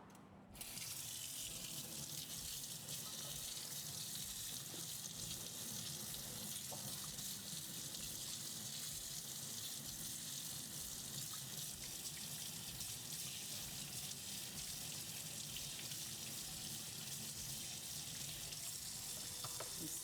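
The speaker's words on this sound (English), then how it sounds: "The hot water kind of just helps the fat kind of soften and just wash off the beaters easier." Hot water runs steadily from a kitchen tap over mixer beaters being washed, a constant close rushing splash that lasts throughout.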